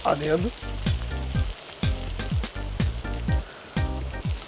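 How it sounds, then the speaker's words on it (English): Onion browning in a little oil in a pan, a steady sizzle broken by rhythmic scraping stirs about twice a second, close and moderately loud, no talk. "we're browning the onion first before we put in all the other ingredients"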